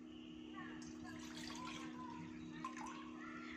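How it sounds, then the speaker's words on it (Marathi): A glass of water is poured into a pan on a gas stove while brewing ginger kadha, a soft, faint splashing trickle heard close by in a quiet kitchen, with someone talking. "आता मी गॅस चालू करते आणि बरोबर एक ग्लास पाणी ओतणार आहे"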